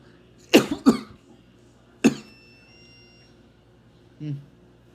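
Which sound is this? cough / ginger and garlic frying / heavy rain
cough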